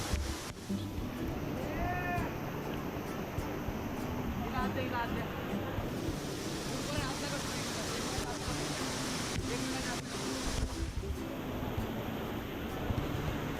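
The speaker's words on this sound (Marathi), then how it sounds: "हा जो वाहता धबधबा आहे त्यातून रस्ता करत चाललोय" Rushing waterfall stream in a monsoon jungle on the Khireshwar route to Harishchandragad Fort, a steady broadband roar that runs throughout and sits close, with voices and a few cat-like calls over it.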